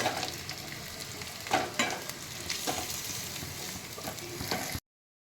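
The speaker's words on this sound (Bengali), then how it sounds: "ভাজা তেলে দুটো আলু ছেড়ে দিয়েছিলাম ওটা দেখানো হয়নি" Two potatoes sizzle in oil that was already used for frying, a continuous close bubbling hiss with several louder bursts where the pieces are stirred, and no voices before it stops.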